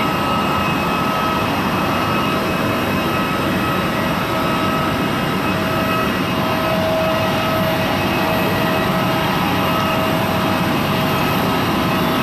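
Airplane cabin during the descent into Tacloban, a loud continuous jet engine roar with deep rumble filling the whole stretch, steady and unbroken with no talk.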